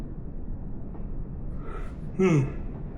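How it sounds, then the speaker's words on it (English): A quiet, breathy yawn rises near the end, a short voiced drawn-out exhale over a soft background hiss. "Just can't keep those yawns in."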